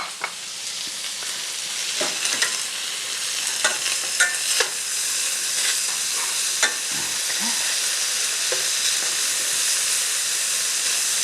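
Onions and cured guanciale sizzle in a pan for a Roman amatriciana sauce. A steady frying hiss runs throughout, broken by occasional stirring scrapes and clicks, with no voices.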